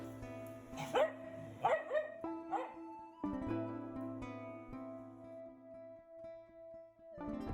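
Dogs bark in repeated bursts at an animal rescue shelter, with several close, loud barks early on, then a sustained tonal whine or howl that rings on beneath.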